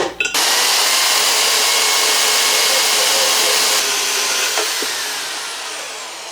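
A VEVOR portable band saw on its stand makes a saddle cut through metal tube held in a vise, giving a loud, steady whining buzz that holds for several seconds before slowly fading.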